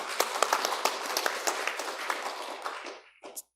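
A crowd applauds steadily at a Korean Won Buddhist temple service, dense clapping that holds for about three seconds before fading out, followed by a brief faint sound.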